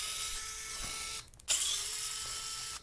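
A small screwdriver works screws out of a PS5 DualSense controller during a teardown, making a close, quiet mechanical whir that breaks off briefly with a faint click before resuming.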